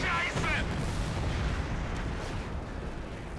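A Panzer IV tank in Company of Heroes 2 is blown apart by a sticky satchel charge, a dense, rumbling blast with heavy low-end crackle sustained throughout, fairly loud and close.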